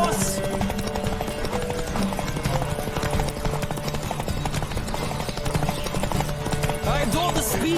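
Rapid clip-clop of horse hooves galloping in a horse race in the video game The Witcher 3: Wild Hunt, steady and continuous over game music and ambient noise.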